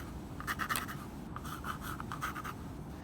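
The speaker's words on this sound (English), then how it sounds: "Use your pencil and just give it a sort of a rough sketch." A pencil sketches a rough drawing on paper, with quick, light scratchy strokes in short bursts, close and fairly quiet.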